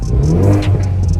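A 2019 Ford Mustang EcoBoost idles with its exhaust in normal mode, a steady low engine rumble that swells briefly and settles, heard close up with no talking.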